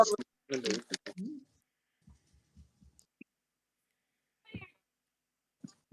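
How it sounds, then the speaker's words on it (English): A cat gives a few faint, short meows, scattered and quiet, after a brief stretch of nearby speech. "Yeah, kitty cat."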